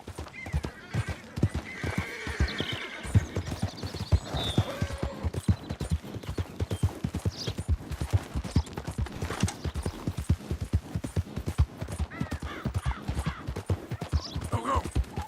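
A horse's hooves gallop in rapid, continuous rhythm in Red Dead Redemption 2, with occasional snorts and whinnies and some faint game voices.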